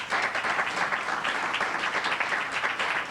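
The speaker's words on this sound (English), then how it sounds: "just give a little round of applause" An audience at a lecture gives a round of applause, dense and steady clapping from many hands at close range, with no gaps.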